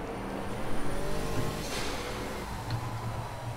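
Audi R8 LMS race car engine in the Project CARS racing game, a steady low mechanical drone with a slight rise in revs, held at moderate level throughout without any talk.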